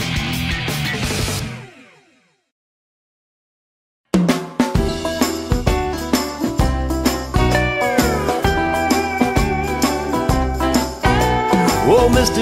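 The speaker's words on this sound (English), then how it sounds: "He had a yellow cat which wouldn't leave his home" A cat meows amid an upbeat children's concert song; the music cuts out into a brief silence, then returns with drums and instruments while gliding meow-like calls rise out of the mix.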